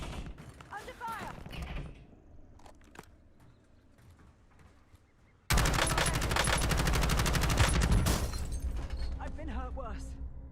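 Gunfire in the Warzone video game: scattered single shots and a distant voice give way to a sudden loud, sustained burst of rapid automatic fire lasting several seconds.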